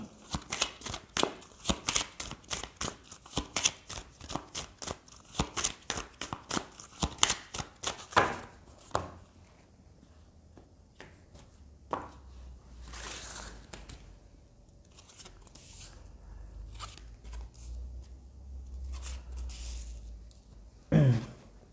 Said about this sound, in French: Donc je vais prendre quelques cartes de l'Astro Crush.